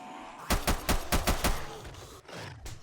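Rapid gunfire at zombies in the survival game 7 Days to Die, a quick burst of about seven sharp, loud shots in even rhythm, followed by a couple of scattered later shots.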